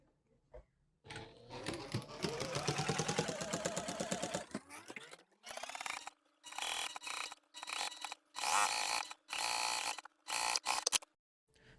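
A sewing machine stitching the lining of a quilted boxy nappy pouch runs in a long continuous burst, then in a series of short stop-start runs separated by brief pauses, close and clear with no talk.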